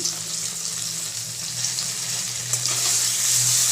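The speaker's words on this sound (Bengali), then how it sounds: "পনিরগুলো ভাজা হতে কিছুটা সময় লাগবে দেখুন পনিরের এক পিসগুলো ভাজা হয়ে গেছে" Steady crackling sizzle of paneer cubes frying in hot oil in a pan, continuous and close, with a low hum underneath and no voices.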